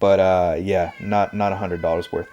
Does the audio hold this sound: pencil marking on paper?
no